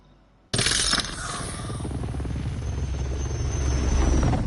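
A helicopter in the video game Call of Duty Warzone starts up abruptly and holds a loud, steady rotor roar and whine that swells slightly as it continues, with no speech.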